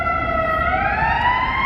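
An ambulance siren wails past on a Chicago street, its rising, sweeping tone loud and steady above low traffic rumble throughout.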